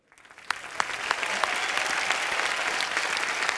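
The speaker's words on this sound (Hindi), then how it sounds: "उद्घाटन का ताली बजाओ।" Audience applause breaking out for the opening of a beauty parlour on a comedy TV show, dense clapping that builds quickly and holds steady with a few sharp near claps.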